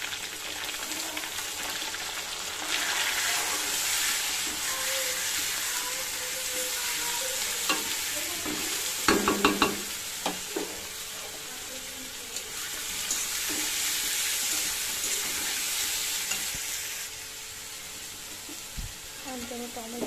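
Onion paste sizzles in oil with fried potatoes, stirred by a utensil that scrapes and clatters against the pan. The sizzle is steady and moderately close, and a voice speaks quietly at times.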